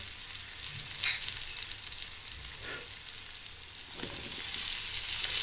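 Potatoes fry in hot oil with curry leaves in a pan, a fairly quiet, steady sizzle broken by a few soft stirring scrapes and clinks, close by, with no voices.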